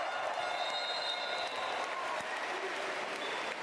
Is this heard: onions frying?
no